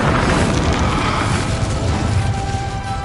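The Incendio fire spell cast in Hogwarts Legacy, a loud sustained roaring blast of flame filling the whole stretch, broad and rumbling with a low booming body and no pause.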